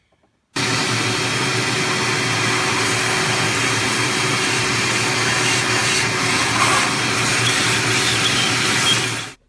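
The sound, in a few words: shop vac vacuuming engine surface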